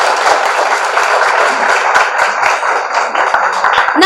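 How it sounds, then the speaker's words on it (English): Audience clapping for a guest speaker at a business school event, a dense, loud, continuous patter of many hands lasting several seconds with no voices over it. "Let us have a round of applause for our guest speaker."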